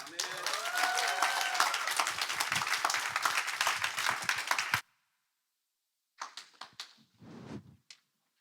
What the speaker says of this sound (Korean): 이제 나오실 때 우리 박수를 환영하겠습니다.